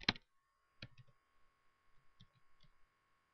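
Someone types on a computer keyboard in sparse, quiet clicks, one sharp keystroke followed by a scattering of softer taps over a faint steady hum.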